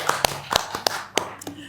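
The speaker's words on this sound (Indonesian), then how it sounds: "Tepuk tangan." A few scattered hand claps ring out sharply and unevenly at a small seminar on digital business in Semarang, with brief gaps of room tone between them.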